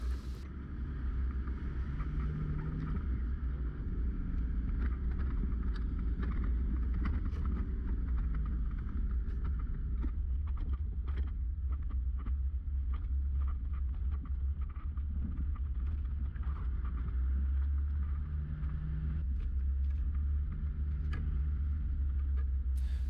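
A car drives along a bush track on the Nicholson Track, a continuous low engine and tyre rumble heard from inside the vehicle, with wind buffeting and occasional rattles and knocks.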